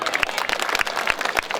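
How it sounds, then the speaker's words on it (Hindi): Audience applause at a Prashant Kishor padyatra rally in Haripur field: scattered, uneven clapping from a nearby crowd, steady and moderately loud for a short stretch, with some crowd noise mixed in. "ठोकिए ताली।"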